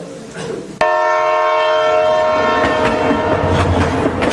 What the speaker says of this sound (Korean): The train to heaven is coming in now.